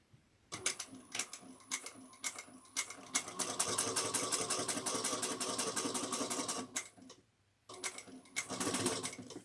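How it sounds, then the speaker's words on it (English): A sewing machine runs in fast, rhythmic bursts as it stitches a backpack seam at a quarter-inch allowance, stopping briefly partway and then starting again, close and steady with no talk. "sew with a 1/4 of an inch seam allowance"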